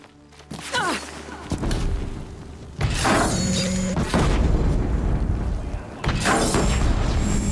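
A disc launcher fires in Horizon Zero Dawn: about four heavy, booming launches a second or two apart ring out loud and close over constant game noise.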